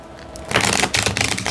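Tarot cards being shuffled by hand, a quick burst of crisp riffling and papery clatter lasting about a second, close and clear.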